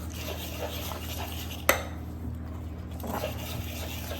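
A spoon stirs bajra millet flour batter for pudla in a metal vessel, with soft scraping and swishing broken by one sharp clink against the rim, close and quiet.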